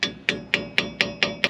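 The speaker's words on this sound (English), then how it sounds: "You might need to use a hammer to kind of pop it back in there." Six sharp hammer taps land at an even, steady pace while freeing the 4WD actuator cap on a 2003-2015 Ford F-150, each strike close and ringing metallically over quiet background hum.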